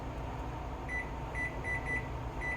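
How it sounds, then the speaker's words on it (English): Kitchen oven timer being set, giving a series of short, evenly pitched electronic beeps in uneven groups over a steady background hum of appliances, fairly quiet and without speech. "I'm going to set that timer"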